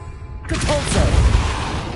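A Repulso spell in Hogwarts Legacy fires off in one sudden forceful blast that rumbles and crackles for over a second after a quiet start.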